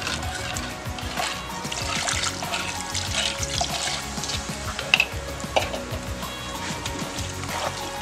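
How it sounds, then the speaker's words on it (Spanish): Sugar dissolved in a little water pours into flour for hallaca dough, a steady wet trickle and splash with soft scraping and stirring clatter close by, and a couple of sharper knocks partway through. "Al azúcar le he agregado un poquito de agua para diluirla y la vamos a incorporar aquí con nuestra harina."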